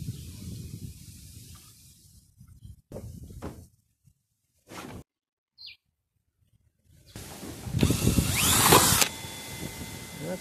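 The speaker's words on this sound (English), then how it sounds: "we just need to drill a hole through the gutter for the downspout" Power drill boring a hole through a metal rain gutter for a downspout outdoors, a loud grinding whine lasting a couple of seconds after quieter bumps and scraping, with birds chirping faintly nearby.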